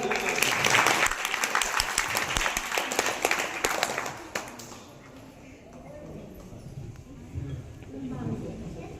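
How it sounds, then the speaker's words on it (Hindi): Loud audience clapping at a Buddhist wedding in Jaunpur, a dense burst of applause that fades after a few seconds into murmuring crowd noise and voices. "जोरदार ताली ताली होनी चाहिए जोरदार।"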